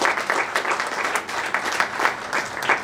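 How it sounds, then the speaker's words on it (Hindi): Steady applause from a crowd at an astrology summit, dense clapping throughout with no voices on top. "एक बार जोरदार तालियां गुरुदेव के लिए।"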